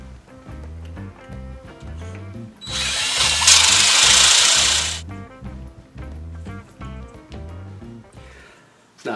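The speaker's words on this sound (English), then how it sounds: "This is a barrel trimmer." A barrel trimmer spinning against the end of a stabilized wood pen blank, a loud whirring cut lasting a couple of seconds over a steady rhythmic mechanical background.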